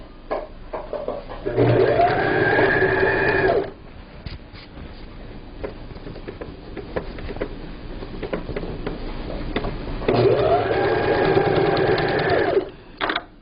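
Sewing machine stitching a fabric table cover, two steady bursts of rapid mechanical whirring of about two seconds each, separated by quiet handling and someone talking softly.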